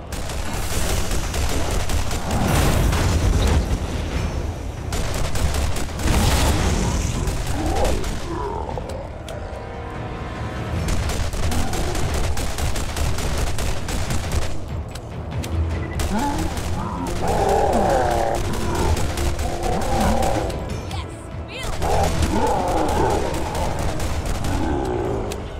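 Gunfire from Borderlands GOTY Enhanced, a loud dense run of repeated shots with bursts and booms that fill most of the stretch, easing briefly before resuming.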